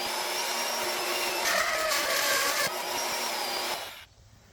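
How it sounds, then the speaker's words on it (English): A power drill bores holes through metal brackets for a hydraulic cylinder mount, a steady loud whir that swells slightly mid-cut, then stops and drops away near the end. "drill the holes before I cut them out"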